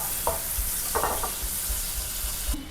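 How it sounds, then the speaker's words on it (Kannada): Butter melts in a pan with a soft, steady sizzle and a few light stirring scrapes, quiet and close, no voices. "ಇಲ್ಲಿ ಬೆಣ್ಣೆ ಚೆನ್ನಾಗಿ ಮೆಲ್ಟ್ ಆಗಲಿ."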